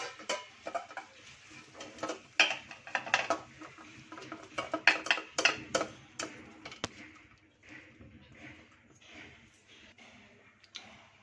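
Cooked chicken scooped from a pot into a small bowl, with sharp metal utensil clinks and scrapes in irregular bursts, close and fairly quiet, thinning out toward the end.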